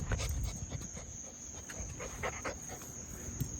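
A pet dog named Ozzy pants softly at close range, quick rhythmic breaths over a faint constant hiss with no talking.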